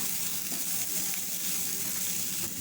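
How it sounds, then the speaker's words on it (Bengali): Boiled peas are mixed into vegetables frying in a pan, giving a continuous close hiss of sizzling with faint stirring scrapes. "মটরশুঁটিটাকে দিয়ে নেড়েচেড়ে সবজিগুলির সঙ্গে মিশিয়ে নিতে হবে।"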